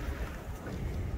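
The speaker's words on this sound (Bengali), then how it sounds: "মানে একদম খুব ঝড় হচ্ছে" Snowstorm wind in Canada roars outside an open door as a brief, steady, rushing gust with no voices.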